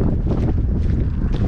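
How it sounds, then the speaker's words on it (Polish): Strong wind buffets the microphone in a loud, continuous low rumble with gusty swells throughout. "Trochę tutaj wiatr wieje"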